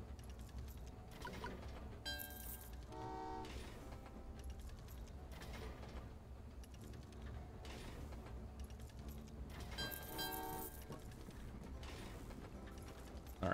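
Trains run in the video game Train Valley 2, heard as soft mechanical clacking and ratcheting game effects with periodic chime-like bursts, faint and continuous.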